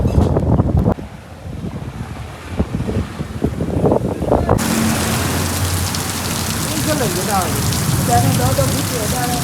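Heavy unseasonal rain pours down in a steady, dense hiss, with a brief burst of wind and talk at the start before the downpour settles into a continuous roar for the rest of the clip.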